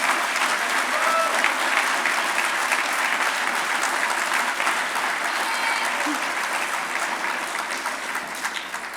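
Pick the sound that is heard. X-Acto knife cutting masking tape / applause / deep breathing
applause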